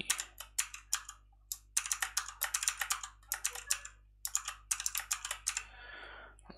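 A password is typed on a computer keyboard in quick close-up bursts of crisp keystrokes, separated by short pauses, ending in a faint soft hiss.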